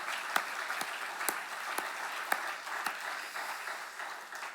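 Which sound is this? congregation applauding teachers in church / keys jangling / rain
congregation applauding teachers in church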